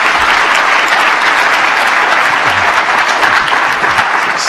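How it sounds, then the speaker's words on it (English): An audience claps to welcome a speaker at a science lecture, dense and loud close-by applause that holds steady for several seconds before easing slightly at the end. "So let's welcome Mike with a clap for that"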